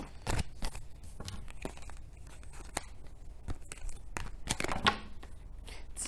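Quiet papery riffling and soft snaps of tarot cards being shuffled by hand, close by, with irregular flicks and no voices.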